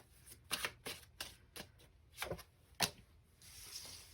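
Tarot cards are shuffled close by, giving a quiet string of irregular papery riffles and slaps, ending in a short soft rustle, with no speech.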